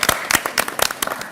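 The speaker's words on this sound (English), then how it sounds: "Round of applause for the veterans." An audience at a political celebration applauds veterans with loud, scattered claps close by, the individual hand strikes spaced irregularly over a brief moment.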